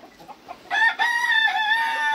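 A Brahma rooster in a poultry pen lets out a loud, sustained crow after a few soft clucks, close by and dominating the sound.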